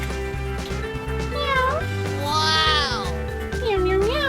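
A voice imitating a cat meowing, several drawn-out rising and falling meows over a repeating music loop from a toy-unboxing scene.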